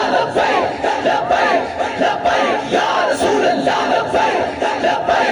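A large crowd at a religious conference chants slogans in loud rhythmic unison, with repeated surging shouts that rise and fall steadily throughout.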